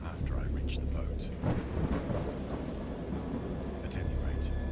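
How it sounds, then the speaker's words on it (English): Steady heavy rain and rolling thunder in the point-and-click horror game Dagon, a constant wash of rainfall with several low rumbles and distant cracks rising over it, while a narrator speaks at times. "This rain sounds like you're in the shower."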